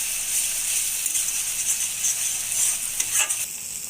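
Spice paste fries in oil in a pan for a mustard katla fish curry, a continuous bright sizzle close up with occasional rattling scrapes of stirring and no voices.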